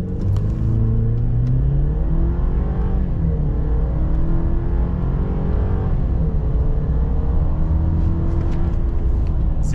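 A 2022 Chevy Silverado with a 2.7 liter four-cylinder turbo does a revved-launch 0-60 run. The engine drones loudly inside the cab, rising in pitch through each gear with two audible shift drops, and no talking.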